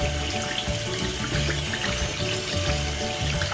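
Hot water runs steadily from a tap after a large water heater switch, a continuous close hiss and splash with no break and no talk.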